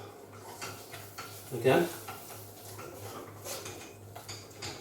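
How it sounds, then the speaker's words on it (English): Welsh rarebit ingredients, including Worcestershire sauce, are stirred together in a bowl, with soft scraping and clinks of a utensil and one sharper clatter, someone talking faintly over it. "Mix that all up"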